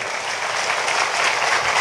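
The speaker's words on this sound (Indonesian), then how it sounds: "Tepuk tangan tuh Anda semua." Audience applause, a steady wash of many hands clapping together, full and continuous for the whole moment with no talking over it.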